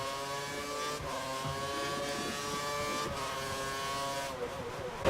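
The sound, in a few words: F1 race car engine in the video game F1 2013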